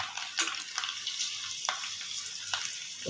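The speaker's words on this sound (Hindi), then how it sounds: "अब इसको छौंकेंगे, लहसुन डालेंगे" Garlic sizzles steadily in hot oil for a tempering, with a soft, hissing crackle and a few sharper pops, heard close and alone.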